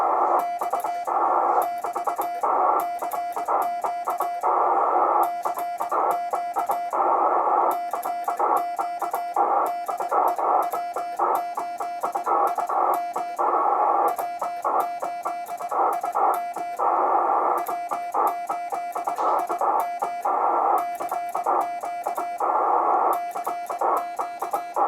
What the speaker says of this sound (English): a demonstration of sending Morse code